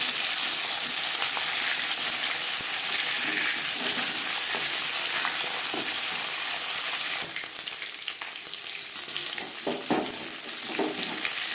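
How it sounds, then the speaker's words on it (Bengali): Aar fish pieces frying in hot oil, a steady loud sizzle and crackle that runs throughout, growing rougher and more spattering toward the end. "এই মাছ একটু ফাটে, সাবধানে ভাজতে হবে"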